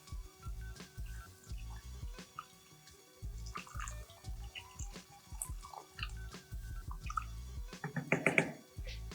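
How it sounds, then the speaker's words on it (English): Five cups of hot water poured into a pot of sweet potato soup with carrots, a close, irregular splashing and trickling that swells into a louder gush near the end. "And now we're adding 5 cups of hot water."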